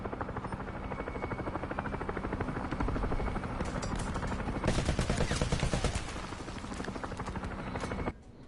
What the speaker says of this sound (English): Oh, that's a enemy helo.